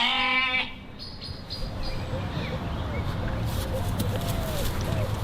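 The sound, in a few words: sheep and goats bleating on school farm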